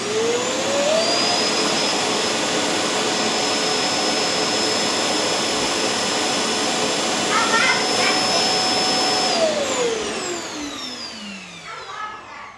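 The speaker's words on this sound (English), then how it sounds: "The dock's emptying fan is pretty loud when it kicks in" A Neabot NoMo N1 self-emptying robot vacuum dock runs its emptying fan, a loud, steady, broadband whoosh that holds for about ten seconds and then winds down and fades.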